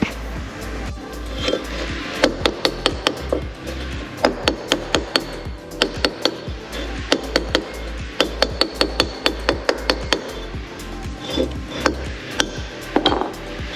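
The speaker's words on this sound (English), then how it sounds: "I'm going to take my hammer, we're going to make it round again." Hammer blows on a bent metal part from a Ferrari, knocked back round, sharp metallic strikes in irregular bursts of quick taps separated by short pauses, close and loud, with no talk.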